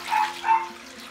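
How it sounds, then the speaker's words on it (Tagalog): Coconut milk (gata) being poured for ube espasol makes a brief, close liquid splash and trickle lasting about a second. "Bubuhos natin yung unang gata."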